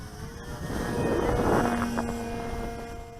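Gusting wind at a model airfield, broad buffeting rush that builds to a peak midway and then eases, with a faint steady engine-like hum underneath.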